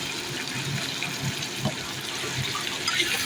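Water goes into a pan of frying mutton, making a continuous rushing, bubbling wash that stays at a fairly even level for a few seconds, close by.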